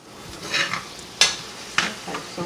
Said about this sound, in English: just going to stir that in and kind of just let it simmer on medium-high